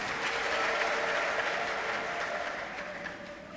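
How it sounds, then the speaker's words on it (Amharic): Church congregation clapping together in a dense, steady burst of applause that fills the hall, holding strong and then easing off slightly toward the end. "አጨብጭቡና ተቀመጡ።"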